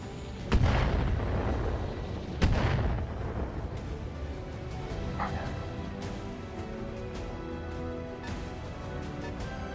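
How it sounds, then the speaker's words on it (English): Heavy artillery booms twice in a mech combat video game, two loud close blasts with rumbling tails, followed by lingering battlefield rumble and distant mechanical noise. "I'm under heavy fire here."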